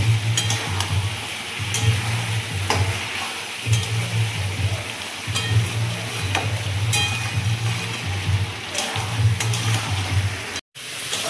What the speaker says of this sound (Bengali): এবার আমি সব মশলা ভালো করে কষিয়ে নেব